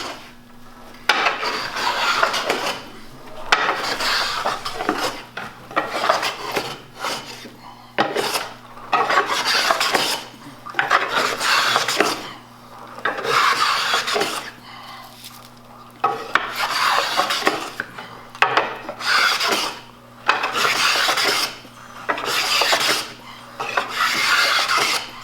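A hand tool, likely a rasp or file, smooths a curved bandsawed wood surface, making repeated rough scraping strokes in a steady back-and-forth rhythm, each stroke about a second long with short pauses, close up and with no talking.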